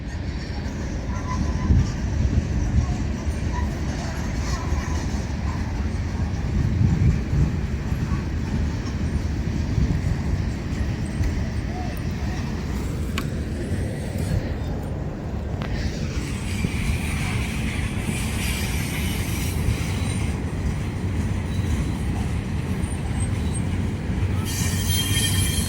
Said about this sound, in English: I don't know how long this train will last because my phone's gonna go dead.